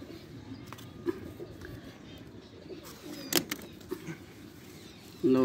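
Pigeons in a pigeon loft coo softly in low, repeated murmurs, with a few sharper rustles and knocks. A voice comes in near the end.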